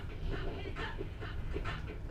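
A dog panting in quick rhythmic breaths, close and moderately loud, repeating steadily over a low background rumble.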